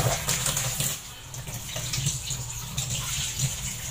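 Tap water runs steadily over fish being washed at a sink for cooking, a close, loud continuous splashing stream with no talk.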